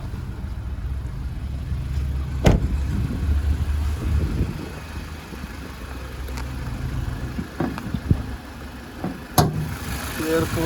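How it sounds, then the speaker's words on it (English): A 2015 Mazda CX-3 engine idles steadily with a low, continuous rumble, a few sharp clicks and knocks standing out above it, with no talk. "we'll have a look underneath the engine while she's running."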